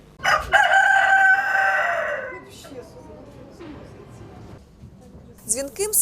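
A caged rooster crows loudly and close at the start inside a palace of culture, its long call trailing off, followed by quieter background noise and a brief squawk at the end.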